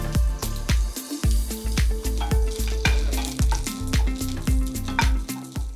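Green chilies and cumin seeds fry in hot oil while making lemon coconut chutney, giving a steady loud sizzle broken by a quick run of sharp spitting pops and stirring knocks.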